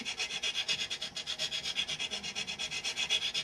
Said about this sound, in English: keep your file stick moving. This way you don't gouge it